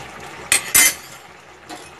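Metal spoon clinks twice against a pot while fried eggs and chopped coriander are stirred into a cauliflower and potato curry, two short sharp knocks close by with a softer scrape after.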